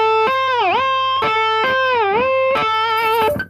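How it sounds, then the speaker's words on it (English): Sustained electric guitar notes that repeatedly dip down in pitch and swoop back up, a whammy bar bend, loud and close with a few picked attacks. "dip the whammy bar down"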